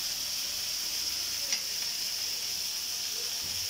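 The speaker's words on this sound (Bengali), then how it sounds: "দেখেই বুঝতে পারছেন কিভাবে আমি ভেজে নিচ্ছি ঘুরিয়ে ঘুরিয়ে" Chicken shashlik sizzles steadily in a pan on a stove, a soft continuous frying hiss at moderate distance with a faint scrape or two as pieces are turned, no voices.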